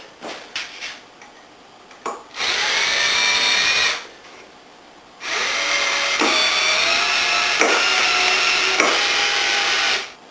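A power drill drives screws into wood while building a small wooden garden planter greenhouse frame, giving two loud, sustained whirring bursts with a short gap between them, preceded by a few light knocks.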